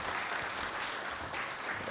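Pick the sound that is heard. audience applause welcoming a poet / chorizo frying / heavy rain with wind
audience applause welcoming a poet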